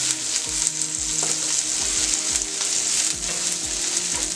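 Dal and vermicelli sizzle and fry in a pan over full gas for vermicelli upma, a steady close crackle with repeated scraping stirs and no talk.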